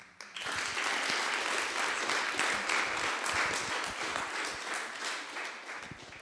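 An audience applauds after a project presentation, a sustained wash of many clapping hands that starts abruptly, holds steady for several seconds and thins slightly toward the end, with no talking.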